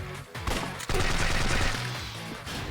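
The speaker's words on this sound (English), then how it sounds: "Oh god, I'm getting shot like hell." Sustained gunfire in the video game Yakuza 5 forms a loud, dense barrage of overlapping shots that roll on continuously with no pauses.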